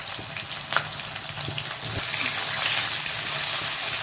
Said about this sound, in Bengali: প্রথমে একটু পটলগুলোকে ভালো করে ভেজে নেব লাল লাল করে